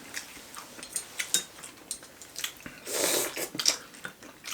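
Someone eating cockles close to the microphone, with irregular wet bites and chewing and a few clinks of utensils against dishes.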